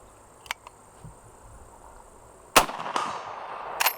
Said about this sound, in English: first time ever shooting a Henry